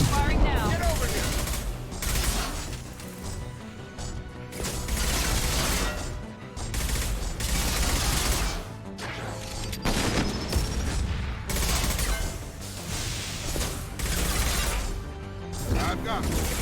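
Sustained gunfire in Mass Effect 2, with rapid automatic bursts and heavy impacts rattling across the battle, while a voice speaks over the shooting.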